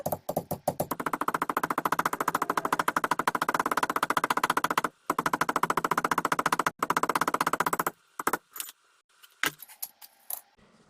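Rapid, even metallic tapping, a small hammer striking metal many times a second during a Datsun 510 five-speed gearbox rebuild, in long bursts with brief pauses, then a few scattered taps.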